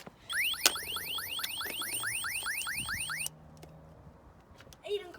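A car alarm blares nearby in a repeating pattern of rising electronic whoops and pulsing tones, then cuts off abruptly, leaving quiet background and a faint voice at the end.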